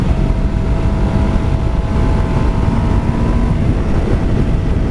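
Engine of a 1991 Kawasaki Ninja EX500 motorcycle accelerating on a ride, a steady loud drone with a rising tone, heavy wind buffeting the microphone throughout.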